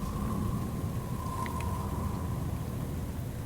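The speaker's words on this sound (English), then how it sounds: "The rain gradually transforms into a solid wall of water" Heavy rain in the video game Man I Just Wanna Go Home, a steady dense downpour roaring continuously with a low rumble beneath and a faint sustained tone running through it.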